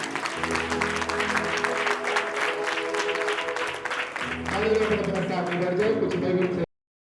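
Wedding guests at a Christian marriage ceremony clap loudly and continuously over music with a sustained melodic backing; the clapping briefly thins midway, swells again and then cuts off abruptly.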